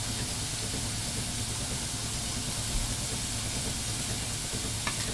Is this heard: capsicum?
yes